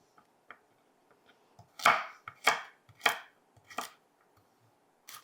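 Knife chopping peeled carrots on a cutting board, a run of sharp close knocks at an uneven pace, a few soft taps leading into four louder cuts, then quieter taps, with no talk.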